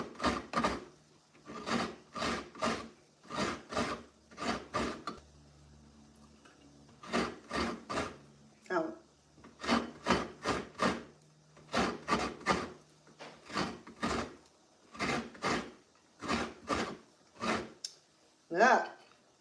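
Coconut is grated by hand the traditional way, giving rhythmic, close scraping strokes in quick bursts of three or four, separated by short pauses, with faint background sounds between the groups.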